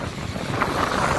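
Strong cyclone winds during Cyclone Ockhi at Colachel harbour roar as a loud, steady broadband rush that buffets the microphone throughout, with no voices.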